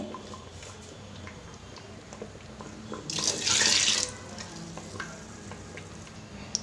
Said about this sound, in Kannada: ಇದಕ್ಕೆ ನೀರು ಹಾಕೊಂಡು ಹಾಕೊಂತ ಇದ್ದೀನಿ